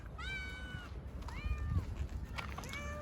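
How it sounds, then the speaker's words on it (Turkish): A sick stray cat with an infected mouth meows on a street, giving three or four drawn-out, rising-and-falling cries at close range, with low background rumble between them. "Kayıp olan kedim."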